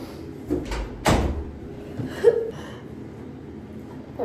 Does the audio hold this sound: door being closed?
yes